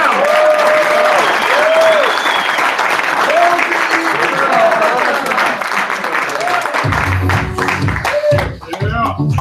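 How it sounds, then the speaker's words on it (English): Loud, sustained applause and clapping from a crowd at a live event in New York, dense and continuous throughout, with a voice calling out briefly near the end. "let's clap it up for Mike and myself."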